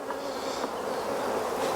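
Honey bees buzz steadily at an open hive during a comb change by the Norfolk Honey Co., a close, continuous droning hum with no voices.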